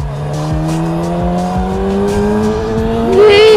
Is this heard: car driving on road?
yes